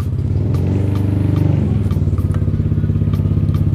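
A motorcycle engine runs close by with a steady, rapid chugging putter that holds an even idle rhythm throughout.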